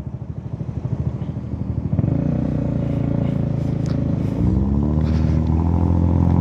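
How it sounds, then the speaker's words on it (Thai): A Honda Forza 300 scooter with a broken bearing in its gearbox runs close by, its engine note pulsing and then climbing as it revs, with a steady rattling drone throughout. "ในชุดเกียร์ไม่รู้ลูกปืนตัวไหนของผมแตกนะมันสะท้านขึ้นเท้"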